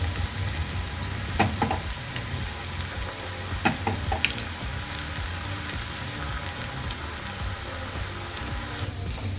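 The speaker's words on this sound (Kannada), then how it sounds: "ಈಗ ಇದನ್ನು ನಾನು ಎಣ್ಣೆಗೆ ಹಾಕ್ತಾ ಇದ್ದೀನಿ" Onion pakoda batter dropped into hot oil fries with a steady, close crackling sizzle and scattered sharper pops, continuing throughout with no talking.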